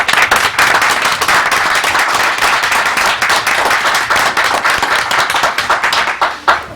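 Vigorous, sustained clapping from an audience at a city council meeting in Lincoln Park, honouring a winning team, many crisp hand strikes blending into loud, continuous applause that tapers slightly at the end.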